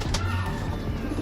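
Racing pigeons cooing softly and steadily at close range over a low background murmur, with a brief brighter burst early on.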